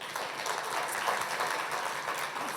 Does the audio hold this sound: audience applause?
yes